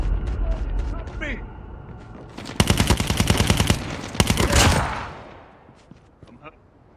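Automatic gunfire in the video game Call of Duty, two loud sustained bursts of rapid shots separated by a short pause, with a voice talking around them.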